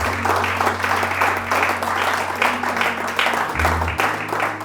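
A church congregation applauds during a sermon, a dense and steady wash of many hands clapping that lasts throughout, with a low organ or keyboard tone held underneath.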